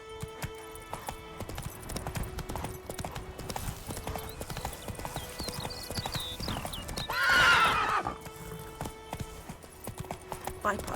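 A horse galloping in The Witcher 3, rhythmic hoofbeats pounding throughout, with a loud neigh partway through and a voice speaking briefly over it.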